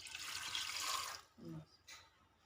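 Water poured into a pot of meat while cooking gosht curry, a steady rushing splash for about a second before it stops, followed by faint quieter sounds.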